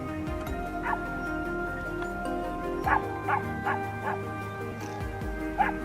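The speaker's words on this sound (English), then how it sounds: "the hound's barking snapped Kevin's attention" A hunting hound barks repeatedly during a wild boar hunt on a farm trail, the sharp barks coming in bursts at moderate distance over a steady low background hum.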